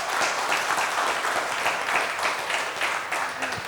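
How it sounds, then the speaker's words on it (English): An audience at a trainers and speakers conference applauds steadily with dense, sustained clapping that stays loud and even throughout. "Big round of applause."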